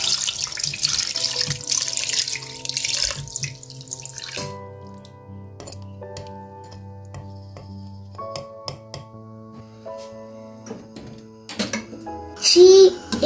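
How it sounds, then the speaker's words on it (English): Water from a tap runs into a cooking pot with a broad hiss, then gives way to quieter clinks and drips, with a voice and other talk in the background. "She is adding water."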